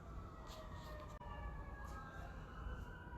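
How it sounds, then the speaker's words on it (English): Faint sirens wail in the distance, their tones rising and falling steadily behind a dull background rumble. "Hear those sirens again?"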